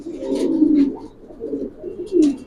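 Giribaz pigeons in a loft coo in low, rolling phrases, a few close calls repeating in bursts with brief pauses between them.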